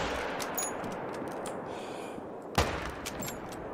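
A single hunting rifle shot at a musk deer in the hunting game The Hunter: Call of the Wild, one sharp loud crack in the middle of a steady outdoor ambience.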